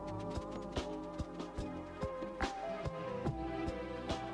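A continuous insect buzz of bees in the video game Cozy Caravan, droning with soft periodic taps, steady and fairly quiet, no voices.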